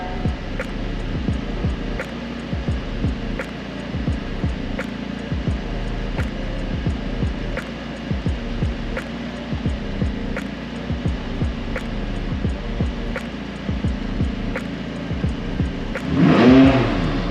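A McLaren 540C engine runs at a steady idle with a low, continuous rumble and repeated small engine pulses, then swells in a brief rev near the end, recorded close by.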